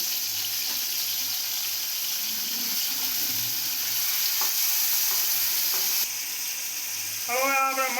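Chillies frying in hot oil give a loud, continuous crackling sizzle that holds steady throughout, with a short high whine near the end and no speech.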